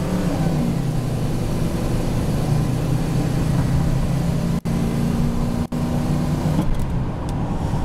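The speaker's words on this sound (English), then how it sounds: "get on the freeway and kind of get that 351 revved up a little bit" A truck with a 351 engine revs and accelerates onto a freeway, a loud steady droning hum with a rising tone, briefly cut twice by gear shifts, heard from inside the cab.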